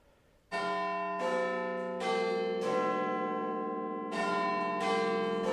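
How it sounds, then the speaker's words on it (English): The Vickerstown clock tower bells strike about six times in a steady, unhurried sequence, each ringing tone clear and resonant and overlapping the decay of the last, with no voices. "The bells of the Vickerstown clock tower began to strike."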